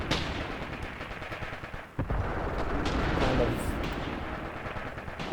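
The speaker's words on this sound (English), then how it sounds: "I love hearing those MG42s chatter." MG42 machine guns fire in a WWII Eastern Front video game battle, dense rattling bursts mixed with booming explosions and heavy combat noise, loud and continuous.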